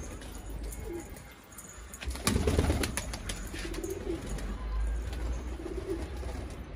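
Pigeons coo softly at a distance over a low outdoor background rumble, with a brief rustle or flutter midway and repeated low cooing phrases afterward.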